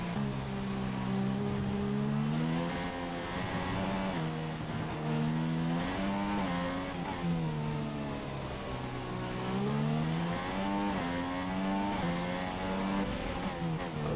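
Formula One race cars in the F1 2016 video game drone through a formation lap, their engine notes rising and falling in pitch steadily and continuously.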